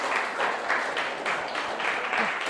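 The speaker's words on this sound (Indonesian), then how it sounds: "Ya, berikan tepuk tangan dulu." A room full of people claps in a steady, moderate round of applause, even and sustained throughout.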